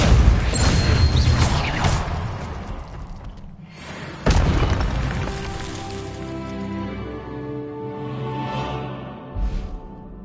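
In Hogwarts Legacy, a Repulsor spell blast lands as a heavy booming burst, then a second sharp impact follows with a fading rumble and a tonal magical shimmer trailing off.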